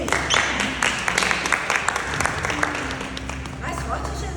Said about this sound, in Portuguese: glória a Deus, aplaudindo ao Senhor, amém?